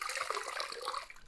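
Hands stir and splash in a bucket of warm water used for rinsing tools during cabinet painting, a continuous close watery swishing and trickling.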